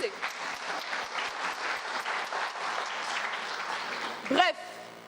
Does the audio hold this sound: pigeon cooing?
no